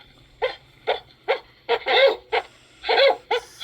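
A vicious dog barks repeatedly, loud and close, about eight sharp barks in an uneven rhythm with some longer drawn-out ones.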